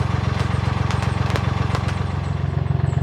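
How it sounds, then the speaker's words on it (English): A narrowboat's engine runs steadily to charge the batteries, a close, even mechanical chugging with a fast regular pulse and light clatter, heard alone without voices. "You can hear I'm running the engine."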